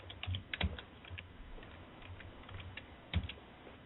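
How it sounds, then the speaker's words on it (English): Someone types on a computer keyboard in scattered bursts of quiet, close clicks with short pauses, a few louder keystrokes standing out. "She's typing."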